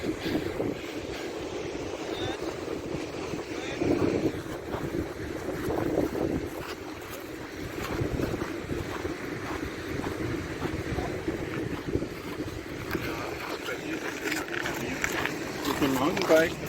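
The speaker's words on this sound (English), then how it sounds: "Waves smashing against the cliffs, the volcanic cliffs." Waves smash against volcanic cliffs at El Golfo, Lanzarote, as a continuous broad roar of surf with swelling surges, heavily mixed with wind buffeting the microphone.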